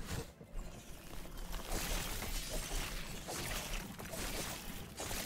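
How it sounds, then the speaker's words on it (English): Glassy shattering bursts from the video game Last Epoch, amid Spear combat effects: repeated crackling breaks and crashes layered densely over several seconds, loud and busy with no talk. "More shattering."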